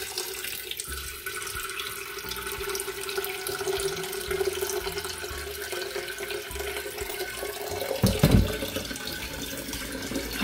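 Water runs from a faucet into a container, a steady close splashing hiss lasting several seconds with a brief louder clatter near the end.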